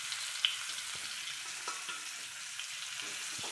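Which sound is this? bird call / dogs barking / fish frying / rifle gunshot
fish frying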